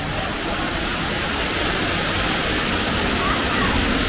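Water flows with a loud, steady broadband rush, like a waterfall or stream nearby, in Pandora at Disney's Animal Kingdom, constant throughout with no breaks.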